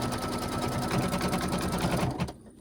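Sewing machine stitching fabric for a gnome's legs with matched bobbin and top thread, a steady rapid whir running close and loud for about two seconds before stopping abruptly.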